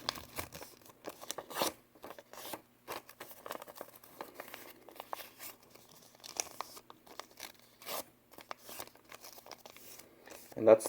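Origami paper is creased and folded for a modular turtle, giving soft, close crinkles and sharp crisp taps at irregular intervals, faint and sparse, with a person speaking quietly.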